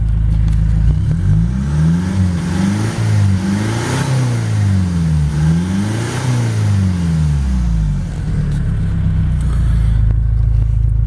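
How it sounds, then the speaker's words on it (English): Straight-piped exhaust of a Kia Sorento 2.5 CRDI diesel, revved in several loud, close sweeps as the engine climbs and falls repeatedly before settling back to a heavy idle rumble, with no talk. "Just give you another blast of that exhaust."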